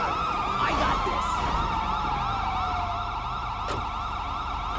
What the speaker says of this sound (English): Try to get away from these sirens